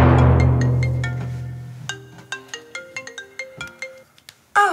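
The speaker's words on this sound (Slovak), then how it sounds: "Klára Priputenová, okamžite zodvihni telefón!" A telephone ringtone in a Slovak comedy stage sketch plays loud and close, a rising jingle of bright electronic tones in quick repeated notes before an abrupt burst at the end.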